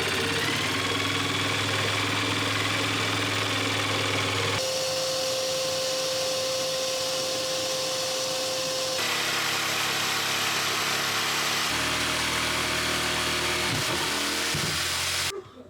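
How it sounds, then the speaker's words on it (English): Jigsaw cutting curved corners on an old catamaran project, a loud continuous motor whine with abrupt shifts in pitch and tone as the cut progresses, close and steady throughout. "Jigsaw."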